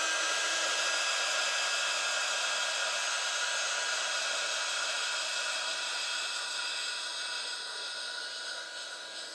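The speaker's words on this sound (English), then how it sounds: "What I'm going to do is accelerate the drying of it to see if it works as an adhesive. Where's my heat gun?" A heat gun blows steadily over wet collage medium, a constant loud hissing whoosh that runs unbroken and eases slightly toward the end, with no talking.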